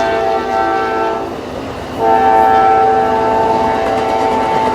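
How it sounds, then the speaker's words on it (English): An Amtrak passenger train sounds a loud, sustained horn close by, broken by a short gap before the horn returns, over a steady rumble of passing cars. "Hey, that's an Amtrak."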